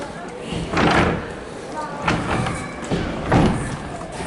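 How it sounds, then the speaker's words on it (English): The door of an old tram at the Melbourne Tram Museum slides and shuts with several dull thuds and knocks, each fairly close, with a voice speaking around them. "Door closed on this thing as well."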